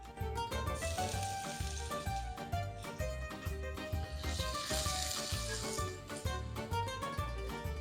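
Chicken fillet sizzles steadily in hot olive oil, a continuous crackling fry with no talking.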